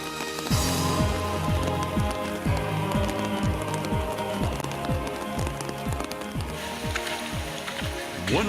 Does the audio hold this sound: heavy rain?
yes